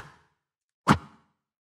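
A mouth-made whoosh for game audio, a single short breathy swish rising sharply and fading within a quarter second, heard alone after a faint trailing breath at the start.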